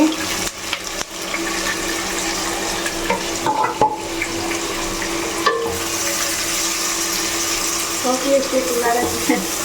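Onions frying in oil in a home kitchen pan for a chicken curry, a steady broadband sizzle with occasional stirring scrapes, close and continuous throughout without talk.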